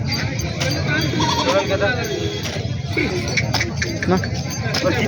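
Goats bleating now and then at a large goat and sheep market, brief calls scattered through a busy crowd with steady chatter and bargaining voices.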